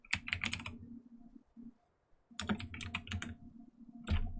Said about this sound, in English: And then we type in iron axe.